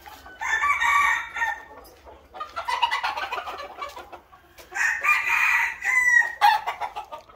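Several roosters crowing in a poultry coop, three long drawn-out calls in sequence at moderate distance, with faint clucking between them and no speech.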